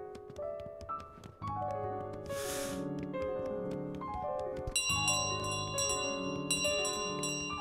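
A bell ringing in Untitled Goose Game sounds as repeated bright metallic rings over layered game music with descending melodic runs, plus a short noisy burst partway through.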